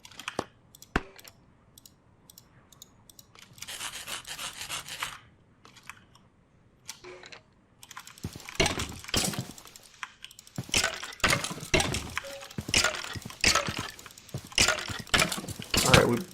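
Minecraft hammers bashing a skeleton mob, a rapid run of sharp cracking and crunching hits in quick bursts, loud and close, with a few isolated clicks before the barrage begins.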